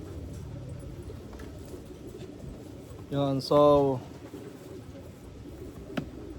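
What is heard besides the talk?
pigeon cooing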